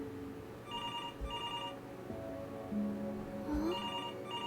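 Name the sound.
telephone ringing in video game Before Your Eyes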